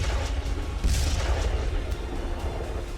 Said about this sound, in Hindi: इसके बाद यहां लगातार धमाके होने लगे।